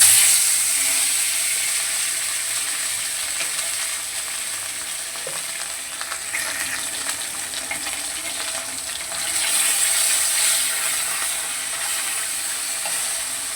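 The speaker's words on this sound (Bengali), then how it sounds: "মাছটাকে তুলে নিলাম, এবার বাকি মাছটাকেও ভেজে নেব।" Bhola fish fry in hot oil in a pan with a loud, continuous sizzle that swells now and then as the pieces are moved.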